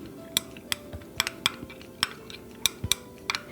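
Small glass rollerball bottles of essential oils, including bergamot, clinking and tapping together while being mixed: sharp, bright, irregular ticks spread across a quiet background.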